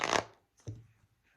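Tarot cards riffle in two quick shuffles, a sharp papery burst followed by a softer second one, close and quiet with nothing else around.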